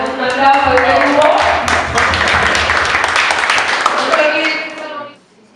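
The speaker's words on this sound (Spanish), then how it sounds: "Le damos un aplauso al grupo." An audience applauds a group: about five seconds of dense clapping mixed with some voices, which then stops abruptly.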